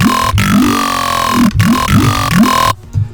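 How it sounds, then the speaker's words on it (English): A heavy vowel growl bass synth built in Serum, heard as loud, aggressive wobbling tones with talking, vowel-like sweeps. Repeated rhythmic bursts are broken by short punchy hits, and the sound plays alone before cutting off near the end. "we're going to be creating a really heavy vowel bass"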